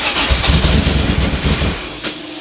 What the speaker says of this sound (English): had a go at starting the engine